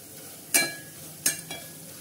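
Curdled-milk kalakand mixture being stirred and browned in a pan: three quick scraping strokes over a faint, steady background sizzle, with no voices.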